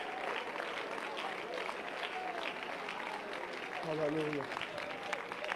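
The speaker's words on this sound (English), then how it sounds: "let's clap our hands one more time to the Lord" Church congregation at a worship conference clapping hands in praise, a steady dense wash of applause running throughout, with a voice calling out and sung tones rising over it near the end.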